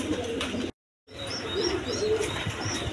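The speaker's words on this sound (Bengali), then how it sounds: "হাই ফ্লাইং কবুতর, এখানে উড়াইতে পারবেন, সমস্যা নাই।" High-flying pigeons coo softly and chirp close by in a short burst, broken by a brief moment of silence.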